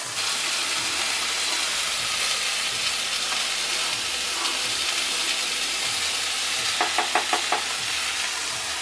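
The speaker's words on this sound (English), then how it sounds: "The meat is steady sizzling, and it sounds fun." Steady broadband sizzling of meat frying in a pan, a continuous hiss with a few brief clinks near the end, no voices.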